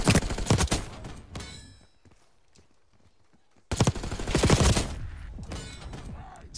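Bursts of rapid gunfire from the AMES 85 in Black Ops 6, loud and close, with a quiet gap of a couple of seconds before a second dense volley.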